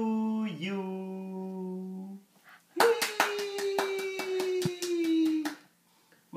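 Hand clapping after a family sings happy birthday to a child, a run of about a dozen sharp, close claps in quick rhythm over a sustained sung note, with a voice singing before it.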